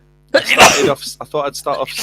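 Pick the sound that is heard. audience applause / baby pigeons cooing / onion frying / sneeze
sneeze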